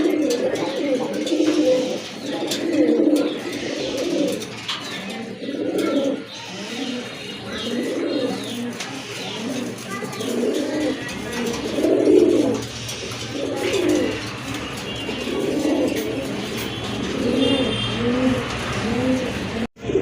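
Large pigeons, including a big female, coo continuously in close, rhythmic, throaty rolls that repeat steadily for a long stretch, with faint traffic noise in the background.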